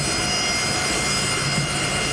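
Loud, steady engine roar of a fixed-wing airplane arriving at an airport in Liberia for a presidential visit, a close and continuous drone with no voices over it.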